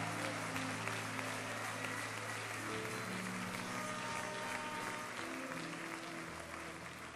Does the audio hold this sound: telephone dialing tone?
no